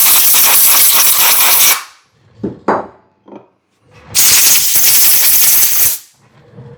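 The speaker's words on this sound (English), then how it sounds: "Compressed air." Two long, loud bursts of compressed air blowing, each lasting close to two seconds, with a few short hisses and knocks between them, during assembly work on a Stihl MS chainsaw.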